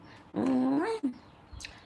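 A dog lets out a short, rising, whining howl at close range, followed by a brief yelp and a faint trailing noise, with no voices over it.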